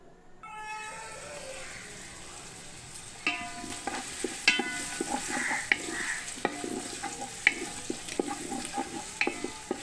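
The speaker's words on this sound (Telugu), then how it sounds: "ఉల్లిపాయలు గోల్డ్ కలర్ వచ్చేదాకా వేపుకుందామండి" Chopped onions frying in hot oil in a pan, with a steady sizzle and a stirring scrape, rising after the first few seconds, close and fairly loud.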